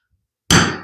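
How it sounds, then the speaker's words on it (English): A single sharp metallic strike from a center punch hit to mark a hole in wood before drilling, close and loud, ringing briefly as it decays, with no voice. "you can use your center punch"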